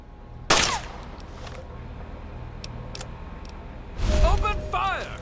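Gunfire in the video game Fallout 3, a sharp burst at the start and a heavier volley near the end, with game voices speaking between the shots.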